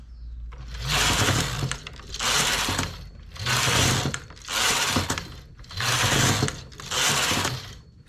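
A domestic knitting machine carriage sweeps back and forth across the needle bed, six loud whirring, clattering passes in a steady rhythm with short pauses between rows, recorded close up.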